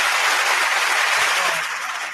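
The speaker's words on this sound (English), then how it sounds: "Let's clap it up for her." A group of people at a radio show clap together, producing a dense, steady wash of applause that stays loud for the whole moment and eases off slightly at the end.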